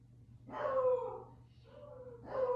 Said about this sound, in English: I don't know what they see out there that they're barking at